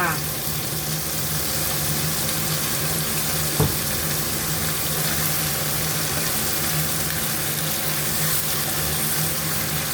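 Water poured into a pot of braising pork belly with shrimp paste gives a continuous, even rushing stream for the full length, with one brief knock partway through.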